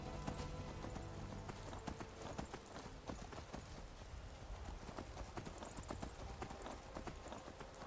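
Horse hooves clop at a steady gallop while riding in the video game Skyrim, a dense, rapid rhythm of close thuds over a constant background wash.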